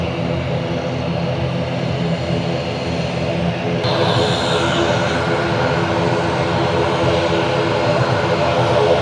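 An IndiGo passenger plane landing at Jaffna airport gives a loud, sustained engine roar that swells and grows brighter partway through, with a voice faintly underneath.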